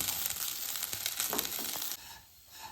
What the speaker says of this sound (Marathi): आपण आता हे तांदूळ आहे हे एक पाच मिनटं आपण अगदी छान परतून घ्यायचे आहे